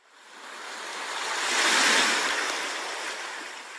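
Ocean surf washes in as a steady broadband roar, used as a sound effect for a seaside scene in an audiobook, swelling and then easing over a few seconds with no voices.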